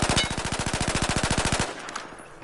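A carbine rifle in Battlefield 4 fires one rapid full-auto burst of about thirty evenly spaced, loud shots at a shooting range, then cuts off into a fading echo.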